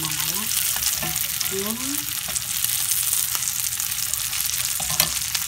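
Salmon fillets fry in butter with a steady, close hiss and crackle, broken by brief scraping and stirring sounds, and a voice speaks briefly over the cooking.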